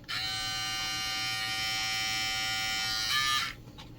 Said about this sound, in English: This is precision trimmer.